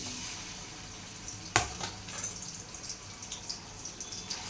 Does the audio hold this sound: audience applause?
no